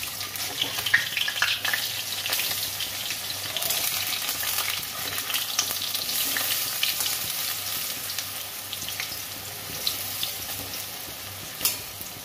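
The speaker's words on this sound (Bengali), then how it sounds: "বড়াগুলো আমি এবার ভেজে নেব।" Yam and lentil fritters (bora) frying in hot oil, giving a steady close sizzle with occasional crackles and stirring scrapes throughout, no talk.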